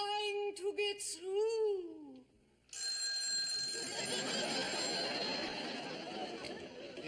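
A telephone rings on a sitcom set: warbling electronic ring tones at the start, then a short pause, then a loud, sustained wash of noise from the room.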